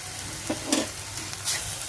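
Okra and tomato sizzling in a hot pan: a constant frying hiss with a few clattering stirs and scrapes of a spoon against the pan, close and moderately loud.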